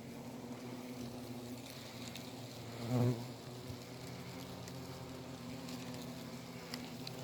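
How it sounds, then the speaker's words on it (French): Asian hornets buzzing around a hornet queen, a steady close insect hum with one louder pass swelling past the listener partway through, no talk over it. "Là on a vraiment une magnifique reine frelon."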